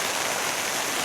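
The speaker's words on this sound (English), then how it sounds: "It's pouring rain." Heavy rain pours down steadily on a hunting camp in Alaska, a dense, loud, unbroken hiss of water with no other sounds standing out.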